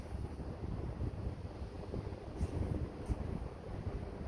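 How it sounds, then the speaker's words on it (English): Strong wind buffets the microphone in a steady, rough low rumble with gusting swells on an open windy day, with no voices. "yeah, it's really windy."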